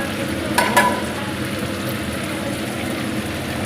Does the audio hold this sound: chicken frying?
yes